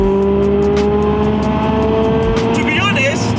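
A Subaru Impreza STI S203 accelerates hard around a bend on a private road, its engine note loud and close, rising steadily in pitch through the corner.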